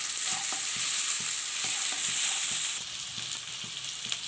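Onion and tomato sauté in a pan for a jackfruit seed and drumstick stir-fry, a steady bright sizzle broken by regular spatula stirs and scrapes, close and without talking.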